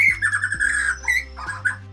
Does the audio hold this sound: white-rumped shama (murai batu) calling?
yes